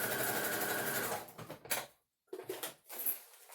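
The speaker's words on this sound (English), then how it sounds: "Sew the line, lock it off" A sewing machine runs a seam on a fabric stuff sack with a close, fast, steady whir for about a second, then short bursts and stops as the seam is locked off, broken by a brief silence.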